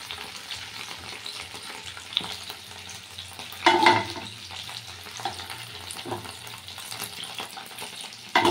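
Pointed gourd (potol) fries in oil in a pan, a steady close crackling sizzle with occasional stirring scrapes and a louder splutter midway, with no talking.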